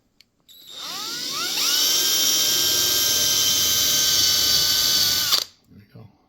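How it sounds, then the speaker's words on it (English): A power drill boring holes through wood while building a pig puppet, a loud steady high whine that rises in pitch as it spins up, holds for several seconds, then cuts off, close by. "So we don't drill through our table because that would not be good"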